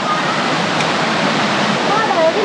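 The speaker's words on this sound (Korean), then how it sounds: "아, 여기 진짜 폭포다, 폭포." A waterfall near Bangkok roars as loud, dense, continuous white noise that fills the whole moment at close range.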